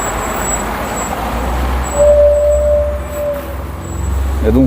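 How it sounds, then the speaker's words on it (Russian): A truck's brakes hiss and squeal with a sustained tonal whine amid city street traffic in central Ufa, over a low engine rumble and ambient road noise. "это тормоза просто у грузовика"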